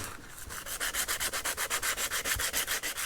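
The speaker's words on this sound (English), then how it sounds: "I have some 150 grit sandpaper, so I'm going to start with it, and then I'll work my way down in grit size or up in numbers until it's nice and smooth" Hand sanding of a wooden tree-branch slingshot with 150 grit sandpaper, a close, steady rasping stroke repeated about five to six times per second, with no talking.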